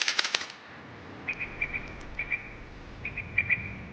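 A bird near people gives a few quick rustling, flapping bursts at the start, then repeated thin high chirps over faint background noise, with no talk.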